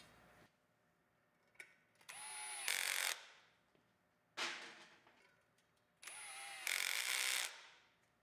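Small power driver spins set screws into a metal railing pipe connector in repeated bursts, each a rising whir that holds loud for about a second then cuts off, with pauses between.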